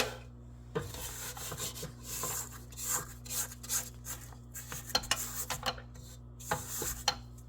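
Spatula scraping down a mixing bowl of chocolate pecan pound cake batter, a series of soft close rasping strokes over a steady mixer hum, with no talking.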